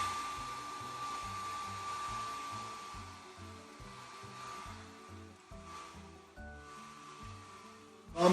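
A hair blow dryer runs close and steady on a long beard over six inches, its whirring hum pulsing rhythmically as the airflow is moved, then clicking off at the end.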